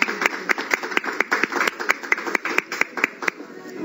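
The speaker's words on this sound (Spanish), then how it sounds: "Un aplauso para ustedes." Clapping at a Spanish-language talk on tuberculosis prevention and control, a fairly close, rhythmic run of distinct claps from a small group, steady and unaccompanied for a few seconds.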